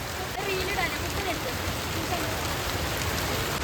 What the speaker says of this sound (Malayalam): അങ്ങനെ മഴ പെയ്യുന്നു ഗൈസ്